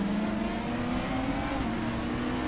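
Super Touring race cars at Monza in RaceRoom roaring steadily, engines droning loud and close as cars pass, the pitch sliding slightly and staying dense without pause or speech.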